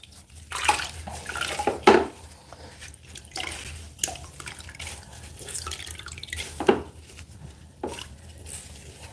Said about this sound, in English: milking the water out of the sponge, you know, so that there's less on the wall